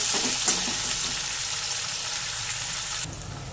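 Onions and potatoes fry in a pan with salt, a steady close sizzle and crackle running throughout, with faint stirring scrapes near the start.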